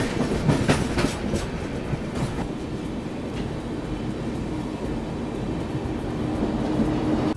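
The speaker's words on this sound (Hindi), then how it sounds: "इस गुड्स ट्रेन में कितने सारे लोकोमोटिव्स जुड़े थे" A long goods train hauled by several locomotives rolls past on the ghat section just beyond Kasara station, a steady loud rumble with rhythmic clickety-clack of wagon wheels over rail joints and no voices throughout.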